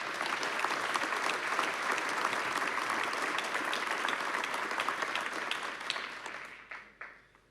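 A large audience gives sustained applause welcoming Nobel laureate Didier Queloz at a Supélec student symposium, a steady wash of clapping that fades out over the final second.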